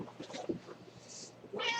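A house cat meows once, close and fairly clear, near the end of a short stretch of quiet room noise with faint scattered handling sounds.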